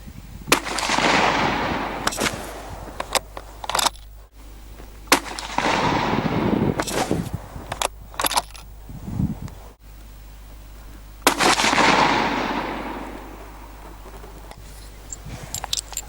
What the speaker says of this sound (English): So first of all, we'll start with the Hornady V-Max.